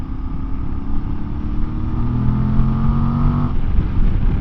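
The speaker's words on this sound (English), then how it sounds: "A nice raspy roar from that engine and exhaust setup." Voge DS800X Rally or DS 900X motorcycle engine and exhaust roaring under acceleration, a steady raspy drone with rising tones, heard up close amid wind rush.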